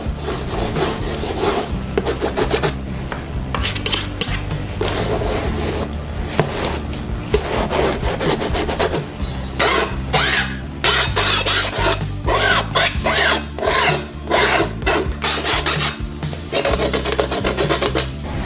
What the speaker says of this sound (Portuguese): Vamos usar uma espátula para dar um acabamento.